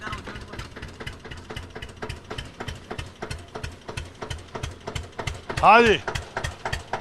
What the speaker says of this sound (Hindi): ट्रैक्टर जाने दो